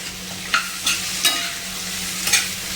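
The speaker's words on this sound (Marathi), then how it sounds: "छान परतून घ्यायची आपल्याला" Cluster beans (guar) being sautéed in a pan, with a soft steady sizzle and a few light scraping stirs of the spoon spaced through it, close by with no talking.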